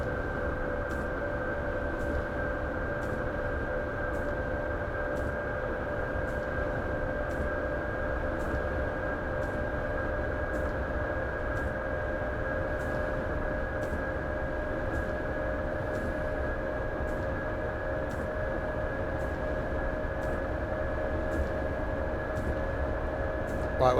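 An electric train accelerates on the Leipzig to Dresden route in Train Simulator Classic. A steady traction-motor whine hums over a rumbling cab, with evenly spaced rail-joint clicks ticking by throughout.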